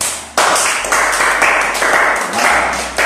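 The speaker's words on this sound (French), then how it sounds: "Applaudissez pour elle." An audience of women applauds together, a dense, steady wash of clapping that swells and holds for a few seconds at close range.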